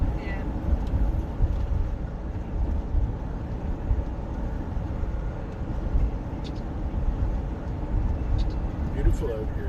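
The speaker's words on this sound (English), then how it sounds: "Here's more border traffic." Cars passing on a road near the border between White Rock and Abbotsford, British Columbia, a steady low rumble of traffic heard from inside a moving vehicle, with voices speaking over it.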